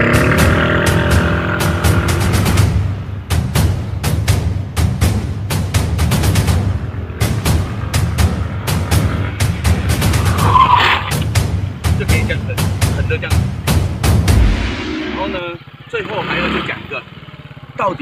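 A motorcycle revving hard and sliding into a drift, the engine buzzing loudly under repeated bursts of broadband tire-skid noise, close by, dropping to quieter rumbles near the end.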